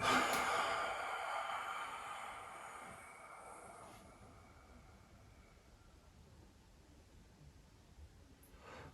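A long, steady exhale after a 20-minute standing Yiquan 'Bear Holding a Stone' zhan zhuang exercise, a breathy hiss that starts fairly loud and slowly fades over several seconds, close and alone.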